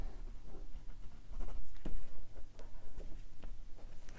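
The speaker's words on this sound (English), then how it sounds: "purple crayon." Purple crayon scratching across paper in short, uneven strokes, close and fairly quiet, with a few brief pauses between strokes.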